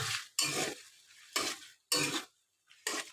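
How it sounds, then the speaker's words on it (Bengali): Mixed winter vegetables coated in a cashew, poppy seed and yogurt paste are sautéed in a pan, with four distinct bursts of stirring and scraping separated by short pauses, near and fairly quiet. "সবজিগুলো ভালো করে কষাবো"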